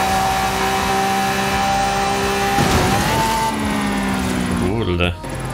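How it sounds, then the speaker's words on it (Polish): A Lamborghini with a modified, non-stock engine revs loudly and close, a steady roaring drone that climbs sharply near the middle and again toward the end, with voices underneath. "Jak Lambo brzmi, tak?"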